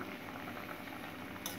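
Steady bubbling of water boiling in a pot with orange peel, a continuous close rolling simmer with a brief brighter burst near the end.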